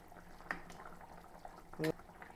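Fish curry with vinegar, made with fatty pearl spot (karimeen), bubbles in a pot on the stove: a faint, steady simmering hiss with a few soft pops and one louder burst near the end.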